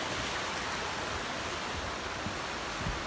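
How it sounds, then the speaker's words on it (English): A small creek flowing beside a hiking trail near a little footbridge on the Appalachian Trail around Franconia Ridge, a continuous even hiss of moving water, close and steady, with no talking. "pretty little creek"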